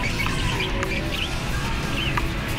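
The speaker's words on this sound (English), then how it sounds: "I think there's more birds around here." Small birds chirp intermittently in a pet store, a few faint, scattered tweets and calls over a busy, rumbling indoor background.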